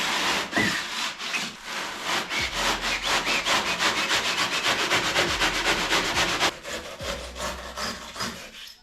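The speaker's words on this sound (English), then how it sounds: "just going to cut along this line and you can't go wrong really" A blade saws through foam being shaped for a GTI bumper body kit, giving steady, rhythmic back-and-forth rasping strokes that are close and fairly loud, with a brief pause partway through.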